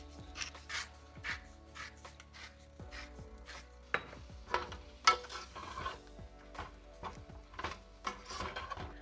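Dry Chinese five-spice, black pepper and salt being stirred in a bowl, a steady run of soft scraping, tapping strokes close by, fairly quiet, with no one speaking.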